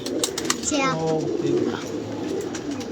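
Pigeons coo nearby, a soft rolling call rising and falling once or twice, with people talking around them.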